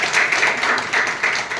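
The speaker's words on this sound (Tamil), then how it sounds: "ஒரு கைத்தட்டல் கொடுங்க சரண்யா" An audience at a telecalling training session in Chennai claps for a participant, with quick rhythmic handclaps coming in several bursts close by.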